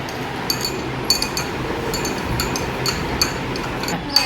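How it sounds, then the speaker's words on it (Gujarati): A glass rod clinks and taps in a rhythmic series against the inside of a glass of water while salt is stirred in, crisp and close over a steady hiss. "કાચના સળિયાથી ઓગાળજો."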